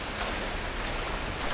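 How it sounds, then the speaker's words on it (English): A waterfall in the Tomb Raider video game, heard as a steady, broad roar of rushing water with no breaks. "Waterfall!"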